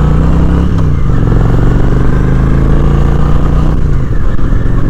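Honda Shadow 750 ACE motorcycle riding on an interstate, a loud, close, steady engine drone with a brief gear shift and dip in pitch, under strong wind rush.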